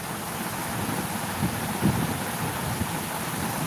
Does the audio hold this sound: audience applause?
no